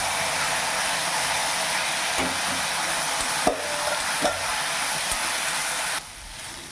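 Drained cauliflower goes into a hot pan for a cauliflower egg podimas, setting off a loud, steady sizzle with a few scraping stirs of a spoon, close up and without talk.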